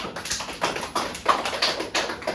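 A classroom of high school students applauds a student group, a run of quick overlapping claps that swells and pulses in bursts over a couple of seconds, fairly close and without talk.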